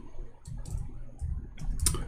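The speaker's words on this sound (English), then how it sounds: "Sorry, my keyboard sometimes is not functioning." Typing on a home computer keyboard that sometimes malfunctions: scattered soft key clicks in irregular bursts under a low background hum, with a sharper click cluster near the end.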